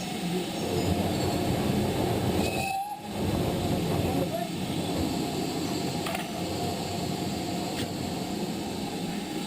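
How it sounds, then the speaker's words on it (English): Steam locomotive 5199 eases forward on the Llangollen Railway, a steady close rumble of wheels and running gear with brief whistle-like tones and a short muffled dip as it passes under an overbridge. "5199 eases forward away from the carriages, passing under the overbridge towards the points ahead at the end of the loop"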